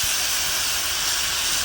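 Guyanese chicken cook-up simmering in a pot, a loud, steady, close hiss of steam and sizzling with no break and no voices.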